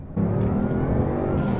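A Bugatti Veyron, recently repaired after a fault, accelerates hard on the road, its engine cutting in abruptly with a loud, steady low roar heard from inside the car.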